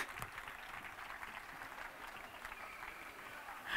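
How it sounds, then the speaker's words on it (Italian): Applause fills the hall at the official presentation of the Pesaro basketball team. Steady, fairly faint, continuous crowd clapping carries throughout at an even level, heard from some distance. "E l'applauso qua deve continuare però,"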